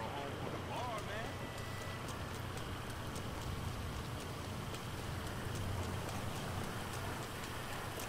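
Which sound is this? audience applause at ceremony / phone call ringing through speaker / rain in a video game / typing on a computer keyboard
rain in a video game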